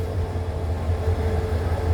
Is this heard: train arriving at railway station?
yes